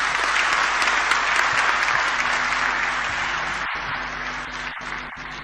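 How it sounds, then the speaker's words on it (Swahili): Audience applause after a speech by Tanzania's President Magufuli, a dense, sustained clapping from a large crowd that slowly thins and softens toward the end. "Naomba tumpigie makofi mengi sana"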